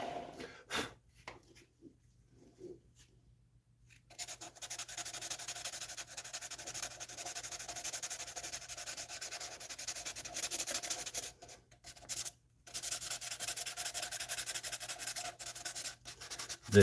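Sandpaper held against spinning wood on a lathe, using a custom grit finishing system: a steady, close abrasive rasp that starts after a quiet opening and runs continuously, with brief pauses.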